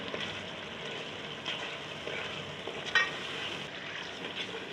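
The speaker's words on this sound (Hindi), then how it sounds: "अब इसमें डालेंगे हम दही। दही डालकर अच्छे से चलाएंगे।" Yogurt is stirred into a chicken and bottle gourd masala in a pan over low heat, giving a soft steady sizzle with wet stirring and scraping, close and fairly quiet, with one brief sharper clink.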